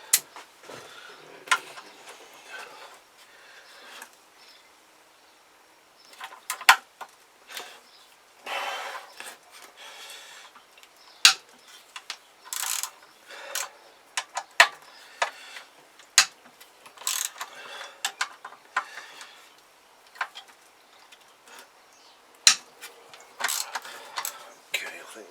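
Scattered metallic clicks, scrapes and sharp taps of hand tools working loose three 8mm bolts on a Kawasaki GPZ500s engine case, irregular and fairly close, with quiet pauses between bursts.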